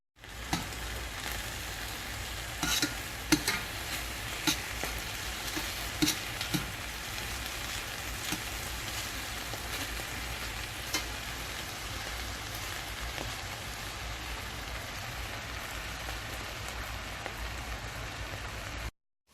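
Bourbon chicken pieces fry in a pan with a steady, even sizzle and crackle, broken by a few faint pops and clicks, and nobody speaks.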